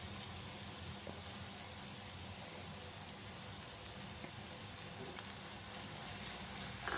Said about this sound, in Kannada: ಅದನ್ನು ಫ್ರೈ ಮಾಡ್ಕೊಳ್ಳಿ.